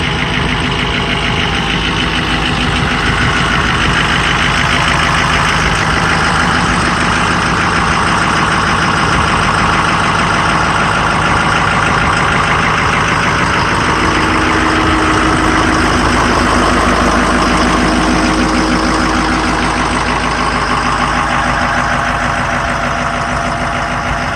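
A 2008 Ford E350 diesel van engine idles close up, a loud, continuous rumbling clatter with a steady rhythmic knock, no talking.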